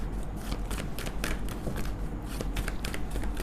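Tarot cards shuffled and drawn by hand: a steady run of quick, papery riffling flicks and soft slaps, close and moderately loud, with no talking.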